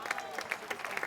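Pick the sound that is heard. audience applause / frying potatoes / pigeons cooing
audience applause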